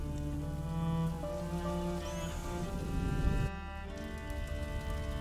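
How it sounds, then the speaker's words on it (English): Steady rain falls in a medieval setting in A Plague Tale: Innocence, a constant wash of drizzle with faint tones above it and a brief swell partway through. "would you mind if we get out of the rain, please?"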